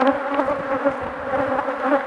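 Honey bees at an open, treatment-free small-cell hive hum in a steady, dense drone, close and continuous, with nurse bees crowding over the brood.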